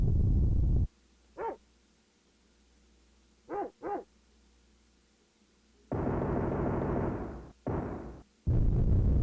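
A dog in an RPG Maker horror game, The Spiteful Dead, gives short barks in a few bursts, a single yelp then a quick pair, then longer barking between loud stretches of game sound.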